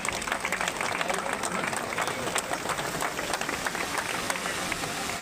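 A crowd at an official awareness event on mediation centres and Lok Adalat applauds disabled runners: steady, dense clapping at a moderate distance that carries on unbroken, with murmuring voices beneath.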